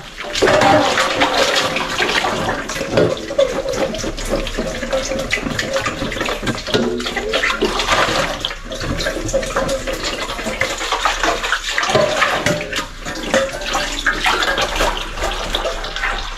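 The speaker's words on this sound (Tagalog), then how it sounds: "Sige lang, hugasan natin ito." Running water pours steadily as an object is washed by hand, a loud continuous splash and gush with shifting intensity and occasional clatters, close by, with no talk.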